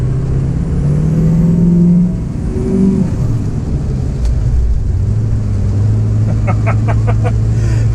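A Ford 6.0 Powerstroke diesel truck with an aftermarket tune accelerates, its engine drone rising and shifting in pitch under steady cabin road noise, with a brief rattly ticking toward the end.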